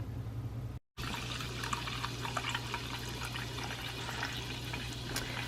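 Water pours into a soup pot for homemade chicken and egg noodle soup, a steady, continuous splashing rush that runs close and fairly loud after a brief gap near the start, with no talking.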